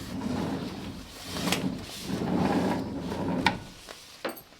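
Door of a Mercedes Vario camper van conversion being unhooked and opened, with rustling and wooden scraping and sliding followed by a few sharp knocks and clicks near the end.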